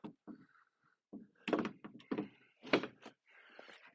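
A Jeep Wrangler rear door is set onto a movable door storage cart rack, giving several dull thunks and knocks of metal settling against the frame, close and fairly loud, with pauses between the impacts.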